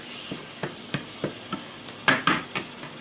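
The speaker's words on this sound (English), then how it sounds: "I'm going to mix it. And I want all these flavors incorporated as this meat is cooking down." Ground meat for sloppy joes cooking down in a pan with cooking sherry, stirred in a steady rhythm of about ten spoon scrapes and clinks over a soft sizzle, two louder scrapes near the end, no talking.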